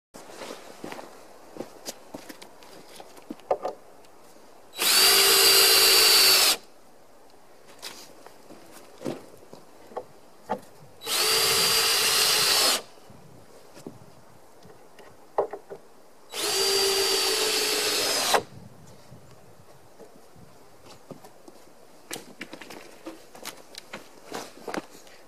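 Chainsaw cutting through logs on a Granberg Alaskan chainsaw mill, in three loud sustained bursts of about one to two seconds each, separated by quieter stretches of footsteps and handling noise.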